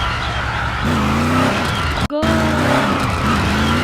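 Car engine revving and tires skidding in a video game, loud and continuous with rising engine tones and a brief cut near the middle.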